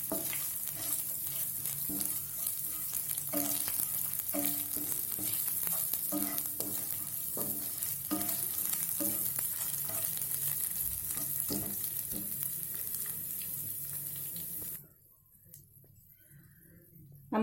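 Ground turmeric, chili, bay leaf and cinnamon fry in oil and are stirred for a pointed gourd kurma made without onion or garlic. A steady sizzle carries regular spoon scrapes for about fifteen seconds, then the sound drops away almost to nothing.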